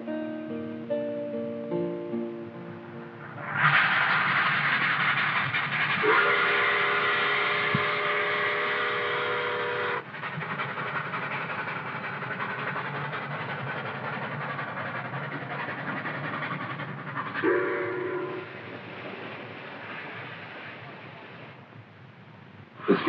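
Nickel Plate Road no. 759 steam locomotive runs with a steady hiss and rumble, broken by three long chime-whistle blasts, loud and fairly close.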